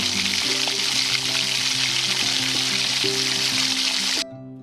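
Beaten eggs with salt fry in oil in a kadai, giving a steady, loud, dense sizzle under background music that cuts off near the end.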